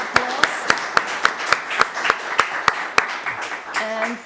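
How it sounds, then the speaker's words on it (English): Audience at a Central, Eastern and South-Eastern Europe economic panel discussion applauds the panelists, though sharp, evenly spaced single claps dominate, like one person clapping close by over a faint crowd, before a voice comes in at the end. "Big applause."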